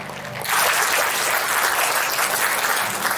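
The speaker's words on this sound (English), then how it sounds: "Come on, one more time. Clap your hands" Church congregation at an Easter service clapping hands together, a dense, steady burst of applause that starts after half a second and holds loud and full to the end.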